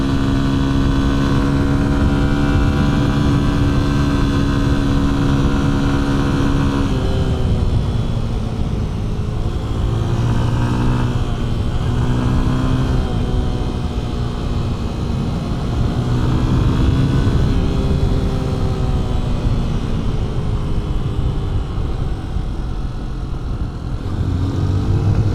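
A dual sport motorcycle, a Honda XR150L or Kawasaki KLX230, rides on a road with a close, steady engine drone. The pitch climbs and dips as the rider shifts and varies the throttle, with wind rush underneath.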